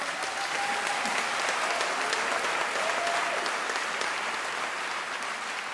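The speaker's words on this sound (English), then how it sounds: "May we give them a round of applause." An audience at a university graduation ceremony gives a sustained round of applause, a soft, even wash of clapping that holds steady throughout from a distance.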